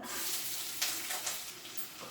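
Steady sizzling of two large onions and curry leaves frying in hot oil, a continuous crackling hiss with a couple of brief louder bursts, close by and without any voices.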